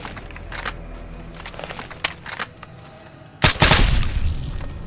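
Gunfire in the video game Fallout New Vegas, scattered sharp shots and clicks followed by a loud burst of rapid fire near the end, with no talk.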